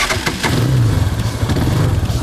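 A quad bike engine runs loud and close, a steady mid-pitched motor drone with slight revving and no pauses.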